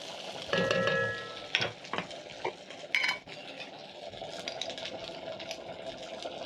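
Rice being tossed with spices in a hot pan: a few loud scraping and clattering hits of a spoon against metal, then softer intermittent stirring over a faint background hum.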